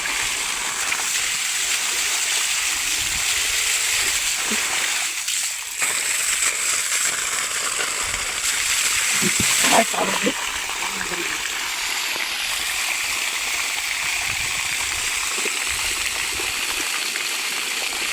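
People bathing in an outdoor water tank, with steady sloshing and splashing water throughout and a few louder splashes, while voices talk and call out over it.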